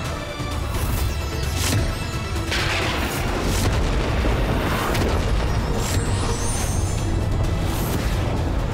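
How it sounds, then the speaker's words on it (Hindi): Booming explosions crash and rumble in a dense, loud barrage, with heavy blasts repeating throughout. "ये कैसा विस्फोट था?"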